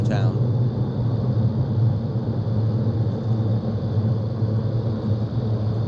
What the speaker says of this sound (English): That's a jet engine putting down its flaps and reversing its thrust